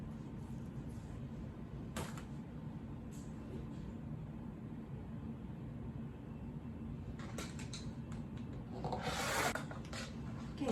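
Scissors trimming the selvage off cotton fabric for placemats make soft, close rasping cuts and rubbing sounds over a low steady background, with a brighter burst of cutting near the end.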